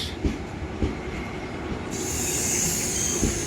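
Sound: train arriving at Paramakudi railway station

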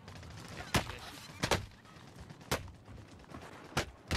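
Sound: gunfire aimed at the player in the video game Warzone

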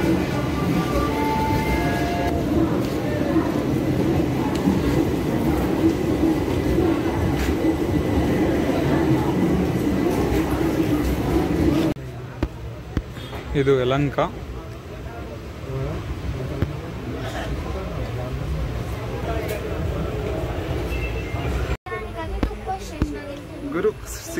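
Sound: train running, heard from inside the carriage

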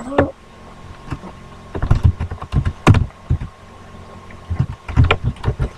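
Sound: typing on a computer keyboard

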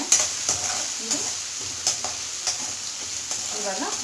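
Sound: urad dal tempering crackling and frying in a pan

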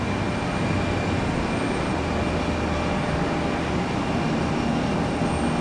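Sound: Boeing 737 MAX jet airliner passing at Tampa airport

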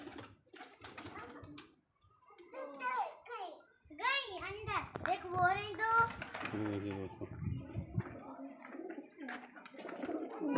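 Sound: pigeons cooing and flapping

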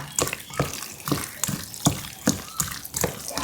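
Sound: plain water poured onto chicken while kneading

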